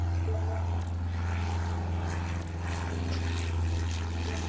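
A white propeller plane in the Airport Madness video game taxis slowly, giving off a steady, even low engine drone with a faint buzzing overtone and no speech.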